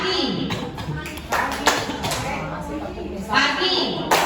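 A single hand clap used as a morning greeting in a classroom exercise, sharp claps standing out over a group of voices speaking together, with a few separate claps across the stretch.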